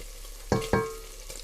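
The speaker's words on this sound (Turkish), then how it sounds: "Şimdi burada soğanımız kavruldu. içerisine şöyle bir tatlı kaşığı biber salçası" Onions frying in a pan as pepper paste goes in, a soft sizzle with two sharp utensil clacks against the pan close together, then a quieter sizzle.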